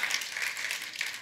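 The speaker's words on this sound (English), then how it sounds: "Yeah, you can clap in church." Congregation clapping during a lively church service, a steady dense patter of many hands heard at a moderate distance, continuous with no talk over it.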